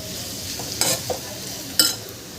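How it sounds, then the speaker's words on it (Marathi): Bitter gourd stir-frying in a pan until crispy, with a steady sizzle and two sharp bursts of spatula stirring and scraping, close and alone. "हे मी छान असं परत परत करून क्रिस्पी होतपर्यंत शिजवून घेते"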